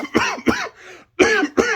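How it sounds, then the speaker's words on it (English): Four harsh coughs, close up: two in quick succession, a short pause, then two more. "Sorry, this fucking cough"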